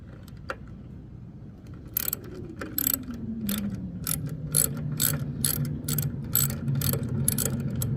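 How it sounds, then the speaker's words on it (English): An 8mm ratchet removing carburetor screws on a Briggs and Stratton lawn mower, a rapid series of close clicking ratchet strokes over a low steady hum. "I'm gonna use an 8mm to remove the screws"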